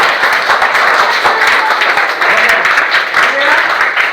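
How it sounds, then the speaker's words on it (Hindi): A school audience at a Safe Saturday session on fire and lightning safety gives loud, sustained applause, a dense and continuous clapping crowd heard close, with some voices mixed in. "तो एक बार जोरदार ताली बजाइए।"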